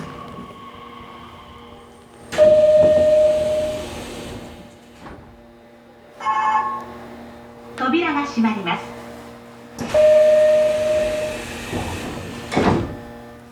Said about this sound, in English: I'm on a train, apparently a fairly obscure line, going away from central Fukuoka